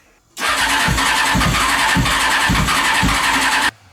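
Honda CBR 600 engine in a reverse trike cranking and starting, a rapid rhythmic chugging from the starter with pulsing beats under a constant roar, close and loud for about three seconds before it cuts off.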